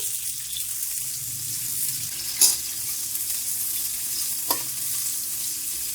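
Tomatoes dropped into hot ghee in a karahi fry with a steady bright sizzle and hiss throughout, broken by two short louder spatters or scrapes.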